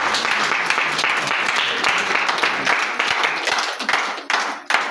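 An audience at a district team coordinator celebration event claps enthusiastically, a loud, dense wall of applause that continues throughout with scattered sharper claps near the end.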